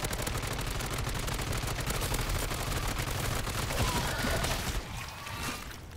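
Rapid automatic gunfire from a video game, MW3 Zombies, rattles continuously at moderate level for about five seconds before tapering off, with no talking over it.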